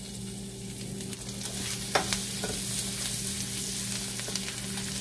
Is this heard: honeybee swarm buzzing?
no